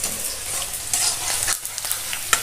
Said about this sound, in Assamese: এইখিনি প্ৰায় অলপ ভাজা হৈছে, জুইটো মই হাই ফ্লেমতে থৈছোঁ।